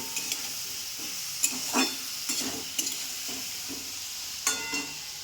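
A tomato sizzles in a pan of kudri (ivy gourd) curry with a little water, giving a steady close frying hiss broken by several stirring scrapes and clinks at irregular intervals.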